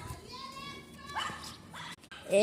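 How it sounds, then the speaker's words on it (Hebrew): A pet dog gives short yips and whimpering cries indoors at home, fairly faint and close, mixed with brief high whines near the end, while people talk in the background. "פשוט הכלבה שלי"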